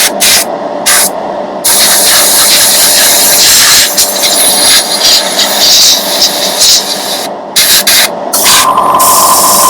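Airbrush spraying paint onto a Toyota Supra GT model, a steady close hiss that runs almost unbroken, with a few short pauses where the trigger is released.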